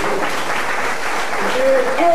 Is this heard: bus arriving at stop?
no